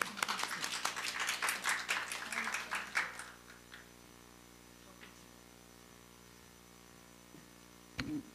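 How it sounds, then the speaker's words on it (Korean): Brief applause from a seminar audience, vertical clap streaks for about three seconds with some voices mixed in, then quiet room hum with a single sharp knock near the end. "박수를."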